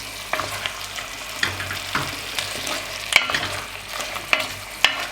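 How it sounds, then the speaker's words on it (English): Beef stew in a hot Dutch oven being stirred, a spoon scraping and knocking against the pot with a few sharp clinks over a soft, steady sizzle, close by and without speech. "A little stir it up like this. Ooh. The Dutch oven is pretty hot"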